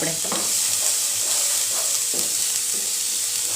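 Hakka noodle vegetables sautéed in a pan over a high gas flame, giving a loud, dense, continuous sizzle with a few stirring scrapes, close up and without speech.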